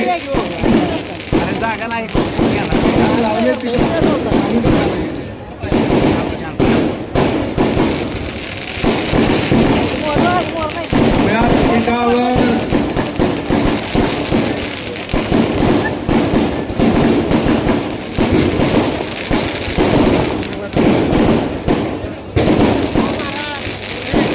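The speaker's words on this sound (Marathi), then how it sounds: "फटाके बंद करा फटाके" Rapid, dense bursts of firecrackers crackling and popping loudly without pause at a political rally in Sangola, with a crowd's voices underneath.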